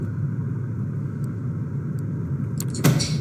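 A car in the video game Vampire the Masquerade Coteries of New York rumbles steadily at low pitch as it drives, then a sharp knock and a brief bright burst near the end as it comes to a stop.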